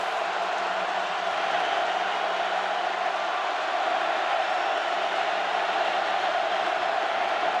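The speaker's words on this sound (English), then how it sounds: "On 1st and goal with the crowd roaring" Roaring stadium crowd at an Iowa vs Ohio State college football game, a loud, continuous wash of cheering that holds steady throughout, with a commentator talking faintly beneath it.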